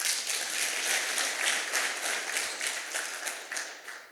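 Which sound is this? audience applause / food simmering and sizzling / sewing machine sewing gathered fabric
audience applause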